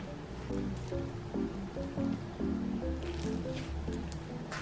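Homemade slime made from squishy filling is squished and stretched close up, with repeated wet squelching and sticky popping sounds in short bursts.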